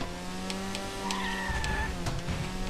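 A rally car in Pro Rally on the GameCube slides under the handbrake, a steady engine hum giving way to tire scrub and a few sharp clicks, close and moderately loud.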